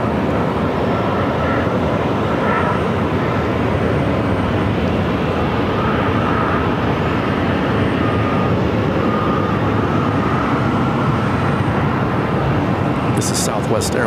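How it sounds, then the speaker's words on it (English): A Southwest Airlines Boeing 737-700 arrives at Phoenix airport, a loud, steady broadband jet roar that holds without letup the whole time. "This is Southwest Airlines Flight 1712, arriving from Memphis on a 737-700."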